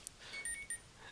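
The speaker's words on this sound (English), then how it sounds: "Excuse me for the beeping in the background on my phone" Faint electronic beeping from a phone in the background, a few short high tones over low room noise during an abstract palette knife painting session.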